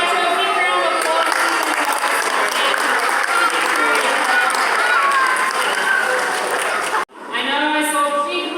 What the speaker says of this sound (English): Let's give Grouch a big round of applause.